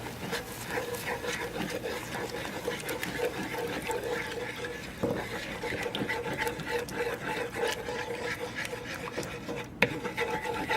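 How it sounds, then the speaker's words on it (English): White gravy of milk being stirred in a pan for chicken fried deer steak, a steady soft scraping and rubbing that runs continuously with a faint liquid sloshing, moderately quiet and close. "You just want to keep stirring it so it don't burn."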